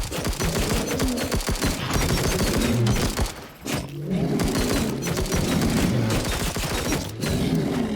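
Rapid, sustained gunfire in the survival video game Dysmantle, loud and dense bursts that run almost continuously with a couple of short breaks.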